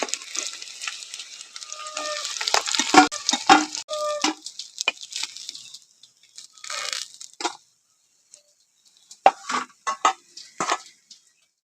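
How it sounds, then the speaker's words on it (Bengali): Fish pieces, snakehead from a pond, frying in mustard oil in a wok, crackling sizzle broken by scraping stirs and turns, fading in and out in bursts with quiet gaps and no voices. "বাকি মাছ কাটাও ভেজে নেবো"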